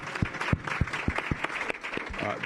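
Audience applause after a talk with police cadets, a burst of clapping with some speech-like sounds mixed in, moderately loud and continuous through the clip.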